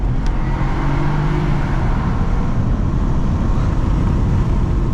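A 2019 BMW 318i F31 with chiptuning pulls at full throttle in Sport Plus mode, with a loud, steady engine drone heard from inside the car and no talk over it.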